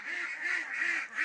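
A flock of farm-raised laying ducks keeps up a loud, nearby stream of nasal quacks, repeated in rhythmic pulses about every half second, with no voices present.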